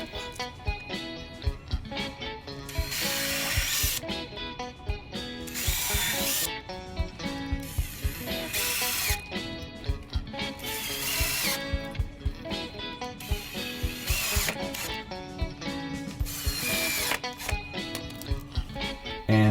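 A drill drives screws into cedar picket pieces on a lightweight gate frame, giving loud, close bursts of whirring, ratcheting buzz separated by short pauses across the stretch.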